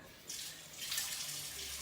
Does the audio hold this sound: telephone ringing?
no